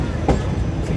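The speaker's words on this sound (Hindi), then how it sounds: "और ये ट्रेन देके जाने लग गई है platform number 1 Okara cantt railway station" A Pakistan Railways passenger train pulls away from platform 1 at Okara Cantt railway station with a heavy, steady rumble, clanking wheels and a brief metallic jolt, close by.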